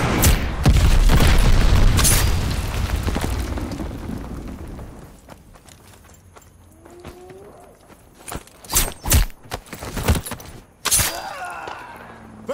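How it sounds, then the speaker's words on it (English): Glide bomber strike in a video game: heavy, rumbling explosions open loudly and trail off into a low roar, then a quieter stretch gives way to several sharp, separate blasts and impacts. "Friendly glide bomber incoming."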